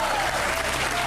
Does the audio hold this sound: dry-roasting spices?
no